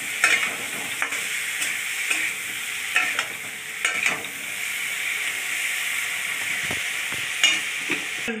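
Kashmiri chilli powder and other spices fry in hot oil with a steady close hiss and sizzle, broken by repeated scraping stirs across the pan.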